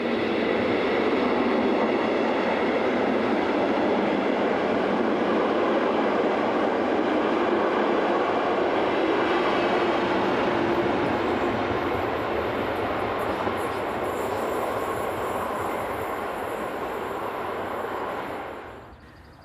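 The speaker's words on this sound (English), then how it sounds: "Number 143078 restarts its train as it heads south for Koblenz." A Class 143 electric locomotive restarts its train southbound at Linz station beside the river, a steady, loud rumble of wheels and traction noise that holds for most of the passage before fading away near the end.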